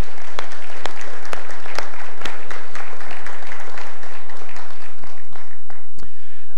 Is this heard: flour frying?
no